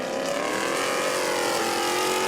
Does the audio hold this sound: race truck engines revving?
yes